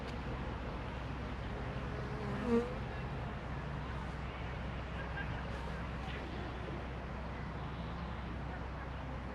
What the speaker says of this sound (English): Bees are enjoying them though.